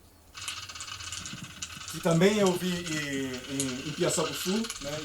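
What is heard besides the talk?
crab sound recorded in Piaçabuçu estuary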